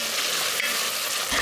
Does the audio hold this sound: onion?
yes